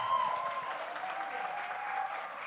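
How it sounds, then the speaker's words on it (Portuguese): A church congregation applauding during a service, even continuous clapping at moderate volume that holds steady for the whole stretch with no voices over it. "Uma salva de palmas"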